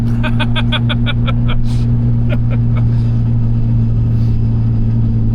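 A car engine fitted with SU carburettors revving high and holding steady, a loud continuous drone heard from inside the car, with a few faint clicks near the start.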